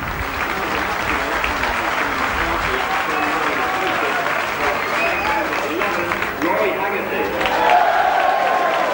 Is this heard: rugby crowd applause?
yes